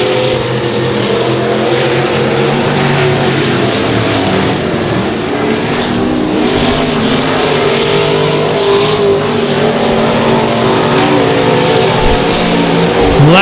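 Stock cars race side by side at Honor Speedway, a loud, continuous roar of several engines at close range with shifting layered engine tones and no speech.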